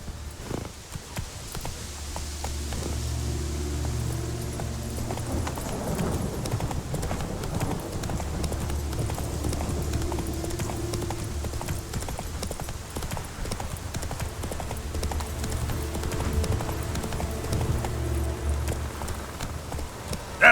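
A horse gallops in The Witcher 3: Wild Hunt. The hooves beat in a fast, steady, continuous clip-clop, with a low ambient rumble underneath the whole time.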